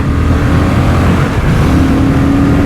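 A Honda Hornet CB750 motorcycle engine drones under acceleration, a constant loud hum mixed with rushing wind, with the pitch climbing slightly near the end as it pulls harder.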